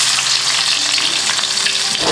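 Crushed onion, garlic and green chillies hit hot oil in a pan, giving a loud continuous sizzle with stirring and a brief change in texture at the end.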